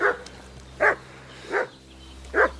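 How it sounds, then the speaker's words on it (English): A dog in the medieval role-playing game Kingdom Come: Deliverance barks four times at a steady, evenly spaced rhythm. The barks are moderately loud over a low game ambience hum. "What's that dog making such a fuss about?"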